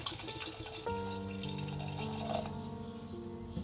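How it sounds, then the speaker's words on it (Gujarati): Water poured into softened, cooked tomatoes in a cooking pot for tomato soup, a quiet gurgling pour whose tone rises as the vessel fills. "આમાં થોડું પાણી નાખીશું"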